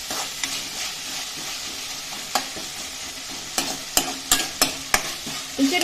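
Chicken liver masala (gaasi) frying in a pan with a steady sizzle, punctuated by sharp scraping clicks of a stirring spoon that come faster toward the end. No one speaks.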